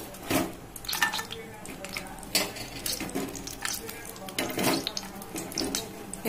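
Cashews sizzle and crackle in hot ghee in a pan while cooking kheer, with a steady hiss broken by sharp spattering bursts and faint voice in the background.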